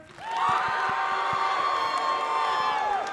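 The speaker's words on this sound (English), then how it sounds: "I want this thunderous applause." School concert audience roaring with cheers, whoops and shouts over clapping, a sustained loud burst that rises sharply, holds for about three seconds, then cuts off.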